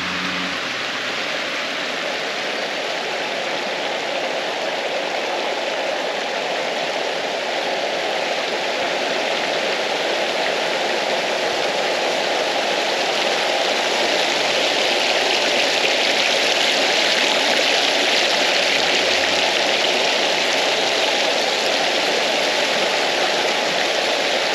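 Water pours and rushes continuously at Anderson Falls, a loud, dense, even roar of the waterfall and stream that stays constant throughout, with no voices.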